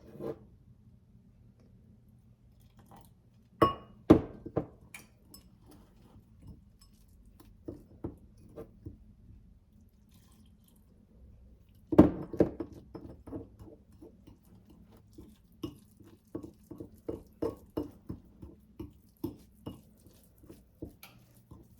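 Golden milk paste stirred in a glass with a spoon, giving a series of light clinks and taps. The scraping comes in two clusters, with short bursts at first and a denser run of clinks later, all near and fairly quiet with no talking.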